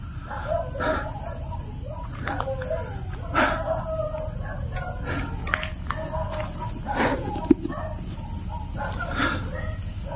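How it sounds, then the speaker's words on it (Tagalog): Several dogs bark in a rural village area at night, with scattered sharp barks at a middle distance over a constant background hum. "Nagkahulan yung mga aso, ha."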